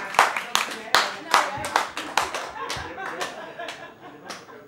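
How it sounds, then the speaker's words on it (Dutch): A small group claps for a few seconds in a café during a preliminary round, the claps uneven and thinning out, with light chuckling and Dutch voices mixed in. "Dus applaus!"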